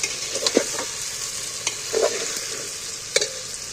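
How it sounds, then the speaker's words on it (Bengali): Fried soybeans being stir-fried in a thick spice masala in a pan, a steady close sizzle broken by several scraping stirs of the spatula, no speech. "এইবার আমি ভেজে রাখা সোয়াবিনগুলো তুলে দিচ্ছি সোয়াবিনগুলো দিয়ে আবার কষিয়ে নেব"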